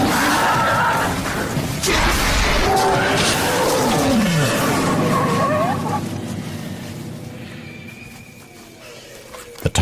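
A tiger roars and snarls loudly at close range in the wild, a harsh, rumbling growl that rises and fades over several seconds and then gives way to quieter ambience.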